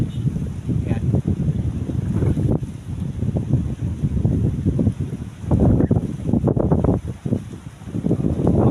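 Strong wind and rough waves at sea beside a small fishing boat near a white-sand shore with large rocks, loud gusty buffeting and low rumbling surges that rise and fall throughout, close to the microphone.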